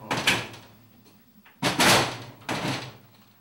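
Three loud door-like bangs, each a sharp broadband hit followed by a short rumbling decay, sound from inside a house at night. The first comes alone, and two more follow close together about a second apart.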